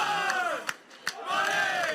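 Players clapping and chanting in a youth baseball dugout at a Pony League World Series game, a lively crowd of young voices singing together with a couple of sharp claps cutting through.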